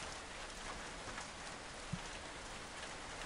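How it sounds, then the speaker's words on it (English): Steady rain falls in the video game Overgrowth, a soft, even hiss of drops with one faint tap partway through and no voices. "I'm loving the rain, by the way."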